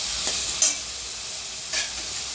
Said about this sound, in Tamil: நல்லா அதையும் வதக்கிட்டு அப்படியே தயிரும் ஆட் பண்ணிக்கிறோம்